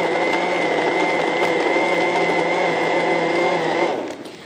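An electric blender whirs steadily while mixing lemon and mint juice, a loud constant motor drone that winds down and cuts off near the end.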